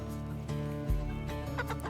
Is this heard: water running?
no